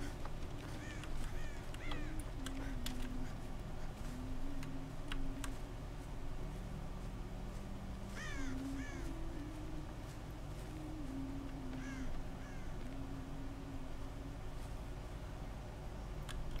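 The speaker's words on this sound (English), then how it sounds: "Damn birds." Crows caw in a video game, several short harsh calls scattered at moderate distance over a steady noisy ambient bed, with occasional clicks and a faint murmur of talk.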